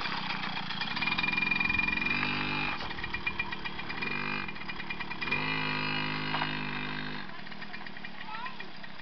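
A 2000 Suzuki JR50 child's dirt bike engine buzzes at a distance, rising and falling with throttle changes, while people talk nearby.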